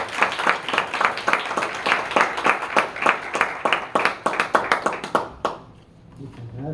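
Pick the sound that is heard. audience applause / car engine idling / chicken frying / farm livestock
audience applause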